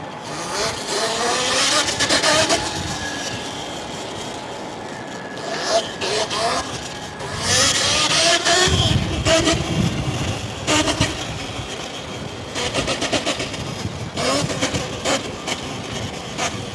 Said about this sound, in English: My bike sounds so clean now that I don't have a clanky chain.